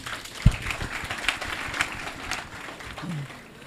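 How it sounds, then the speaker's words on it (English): A crowd of new students applauding at a freshers' orientation, a brief burst of clapping that fades under a speaker's voice. "Clap for yourself."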